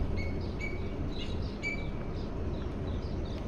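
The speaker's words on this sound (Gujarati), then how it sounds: "તો મસ્ત કોયલનો અવાજ આવે છે" An Asian koel calls in the early morning, several short, clear whistled notes repeating at a moderate distance over a soft, steady background hum.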